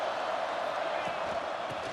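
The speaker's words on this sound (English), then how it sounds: "this crowd is fired up. Listen to this noise here" A stadium crowd roars in the EA Sports College Football video game, a continuous broad wash of distant cheering and noise with faint thuds beneath it.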